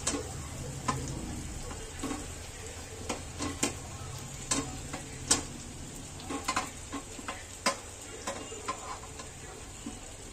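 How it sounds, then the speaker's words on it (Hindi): Fara dumplings are dropped one by one into frying tomato masala in oil and stirred, giving a soft sizzle under irregular scraping and clinking taps of a spoon against the pan. "एक एक करके सारे फरा इसमें डाल देते हैं अच्छे से मिक्स करना है अच्छे से फ्राई करना होता है"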